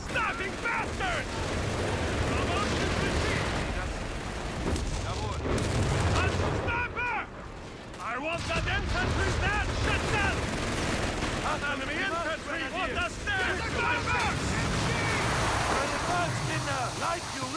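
Machine gun fire and other battle sounds in the Company of Heroes 3 war game, sustained rattling bursts under heavy background rumble, with shouted voices mixed in throughout.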